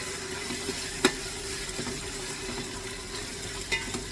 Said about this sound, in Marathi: दोन दोन मिनटांनी परतत राहायचं आहे व्यवस्थित कांदा थोडा मऊ झाला पाहिजे